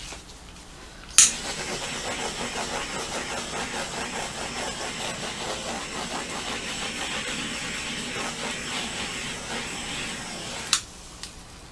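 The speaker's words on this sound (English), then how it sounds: "a quick torch." Quick pass of a torch flame over Dutch pour acrylic paint, a steady close roaring hiss that begins with a sharp ignition pop and cuts off abruptly near the end, with no talking.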